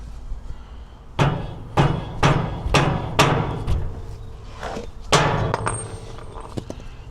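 A hammer strikes a socket to drive it onto a trailer nut, roughly eight sharp metallic blows in an uneven rhythm, close and fairly loud over quiet background.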